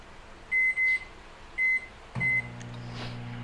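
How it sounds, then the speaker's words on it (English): A microwave oven reheating a cup of day-old coffee gives a few sharp keypad beeps, then starts running with a steady low hum close by. "Microwave. Let's just microwave it."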